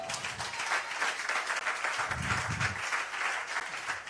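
A church congregation applauding during a French-language sermon: sustained, fairly even clapping from a crowd, moderately distant, without spoken words.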